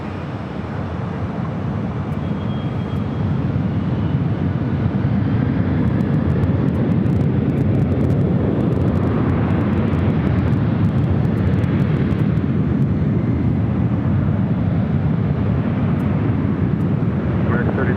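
Airliner taking off from runway 24 left at LAX, a loud, steady jet roar that holds throughout with a broad rumble, and faint radio chatter running underneath.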